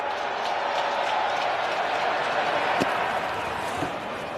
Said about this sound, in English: With this loud crowd, it's a challenge.